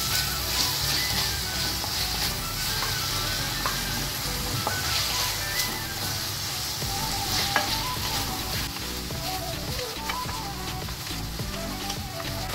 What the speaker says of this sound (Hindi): अब प्रॉन्स को साइड करके बचे हुए प्याज फ्राई करेंगे।